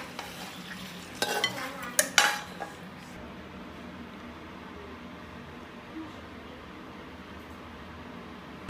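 Pressure-cooked braised pork trotters in a wok reduce their sauce: a few sharp clattering bursts of metal and sputter early on, then a quiet, steady low simmer with faint bubbling.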